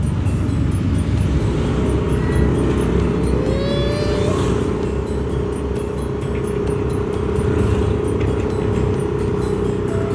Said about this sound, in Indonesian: Ini banyak mobil-mobil lewat